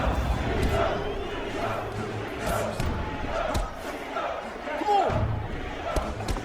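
Boxing arena crowd roaring and shouting through a Creed movie fight scene, a dense steady wall of cheers with occasional sharp slaps and thuds of punches, voices mixed into the noise.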